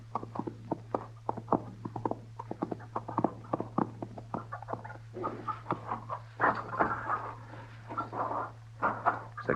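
Horse hooves clip-clop at a walking pace in a Western drama scene, irregular close knocks over a constant low hum, growing busier toward the end.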